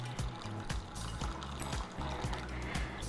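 Water pours steadily into a bowl of cashews with a continuous gurgling splash, fairly quiet and close.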